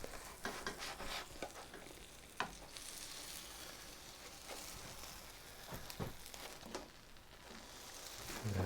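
Tex-Mex grilled cheese sandwiches sizzle steadily in a pan, a continuous close crackle with scattered sharper pops and light scraping throughout, with no talking.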